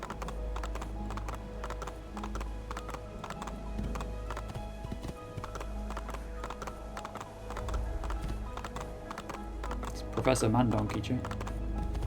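In Assassin's Creed 2, steady clip-clop of horse hooves keeps a regular trotting rhythm under a voice talking, with clicking keys and a brief whinny-like burst near the end.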